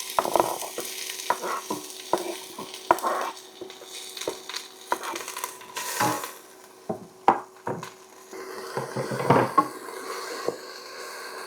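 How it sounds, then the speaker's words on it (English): Chopped onion frying in hot oil with a steady sizzle, interrupted by frequent scraping and stirring of a utensil against the pan, nearby and fairly quiet. "let's put our onion in the oil"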